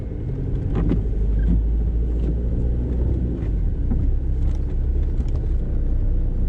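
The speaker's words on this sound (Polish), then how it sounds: "Zobaczmy, jak się rusza tym niewielkim samochodzikiem." Steady low engine rumble from inside a small VW Polo with a 1.9 diesel engine driving on winter roads, with constant road and wind noise and faint clicks, no talking.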